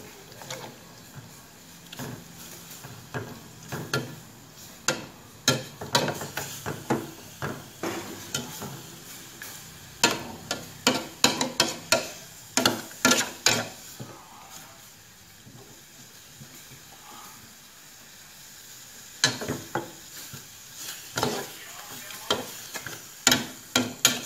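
Sliced beef for larb is blanched and stirred in a pot of boiling water, giving repeated clattering stirring strokes in uneven bursts over a low simmer, with a pause midway and no talking.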